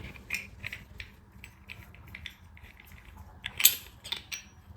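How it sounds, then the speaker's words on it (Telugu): Detachable threaded parts of a brass Kerala oil lamp are unscrewed by hand, giving quiet metallic ticks, faint scraping and a brief sharper clink near the end. "సో ఇలా ఏ పార్ట్ ఆ పార్ట్ మొత్తం మీరు స్క్రూ ఫిట్టింగ్ ఉంటుంది, తీసుకోవచ్చు మీరు ఈజీగా."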